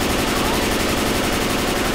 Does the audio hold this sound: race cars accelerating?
no